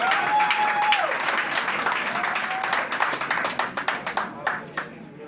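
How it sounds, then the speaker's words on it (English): Audience applause for a librarian at a library gathering, a crowd clapping densely with a whistle near the start, then thinning to scattered individual claps toward the end, with voices mixed in. "Let's give a round of applause to the librarian"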